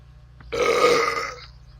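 A single long, loud burp lasting about a second, rising abruptly and trailing off, with a faint electronic hum underneath, from a character in the video game My Summer Car.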